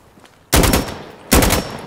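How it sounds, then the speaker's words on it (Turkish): Gunfire in the tactical shooter Insurgency Sandstorm: two loud, sharp bursts of rapid shots about a second apart, close by and standing alone over quiet background noise. "silah sesleri, silah sesleri"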